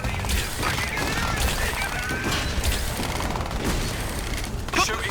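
Rapid game gunfire with booms and crashing impacts fills a first-person shooter battle, sustained and loud throughout, with mechanical clatter under it.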